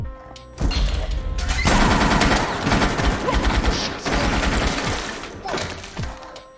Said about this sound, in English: when we finally get to some casino floor gunplay